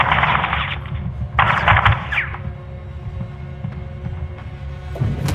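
Automatic gunfire in a Call of Duty shooter, loud close bursts of rapid rounds in two or three volleys with mechanical clatter between, no talk over it.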